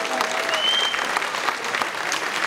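Steady applause from a crowd, dense and continuous clapping at close range, lasting the whole stretch with a faint tonal whistle drifting through early on.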